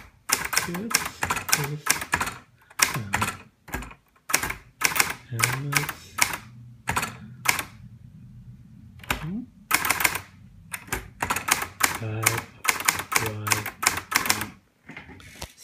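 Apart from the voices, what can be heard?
typing on a Hermes 3000 portable typewriter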